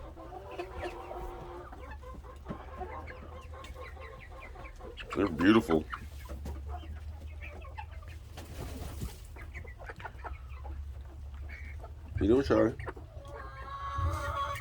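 Hens and roosters cluck softly and steadily in a flock on a rainy day, with two louder bursts of calling standing out; people talk intermittently over the birds.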